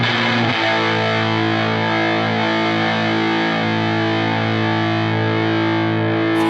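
A heavily distorted, fuzzy tone with thick compression and saturation sustains loudly and steadily for the whole stretch, with a short attack at the start and no talking.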